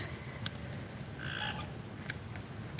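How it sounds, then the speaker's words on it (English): Frogs croaking energetically outdoors behind a garden, a fairly quiet chorus of repeated short croaks and chirps over a low rumbling background. "I've got frogs going bonkers behind me"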